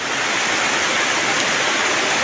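Heavy rain pours down steadily on a rural home beside rice fields in Thailand during a storm, a dense, continuous hiss with no pauses, close and loud throughout.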